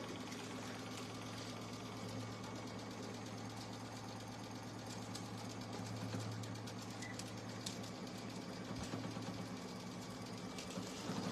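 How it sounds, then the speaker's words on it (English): A sewing machine runs steadily while stitching in the ditch along a two-color gray and pink tote bag handle, a continuous even mechanical hum and patter, moderately close with no talking. "she is stitching in the ditch right where the gray meets the pink"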